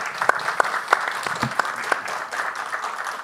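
Audience applause at a panel discussion on a new constitution and the right to memory, a steady wash of many hands clapping throughout with a few sharper individual claps standing out near the start.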